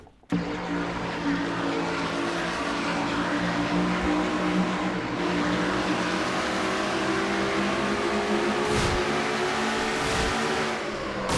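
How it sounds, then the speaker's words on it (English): An in-car view of a race car lapping Phoenix in a racing video game carries a loud, sustained engine drone with steady revs. Brief dips and surges near the end suggest lifting off and reapplying the throttle. "Almost too soon with the throttle there, Johnny."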